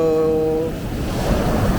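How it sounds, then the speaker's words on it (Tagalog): Large, rough ocean waves surge toward the shore at Dingalan, Aurora, a steady broad wash of surf and wind rumble building louder near the end, with a brief low tonal hum fading out early. "diba grabe yung alon. Nakakatakot."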